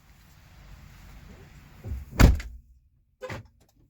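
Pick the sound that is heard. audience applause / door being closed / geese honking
door being closed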